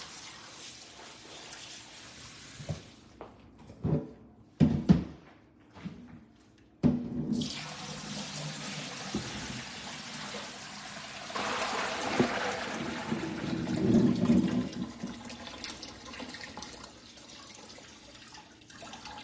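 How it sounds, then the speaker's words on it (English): Collard greens being washed under a running faucet in a sink, a steady close trickle and splash of water with brief louder bursts as the leaves are handled, no talking. "But this is my first initial wash before I get to cutting them."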